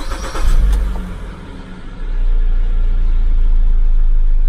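A car engine cranks and catches with a brief rough burst, dips, then settles into a steady, loud, low idle that continues to the end, heard close with no talk.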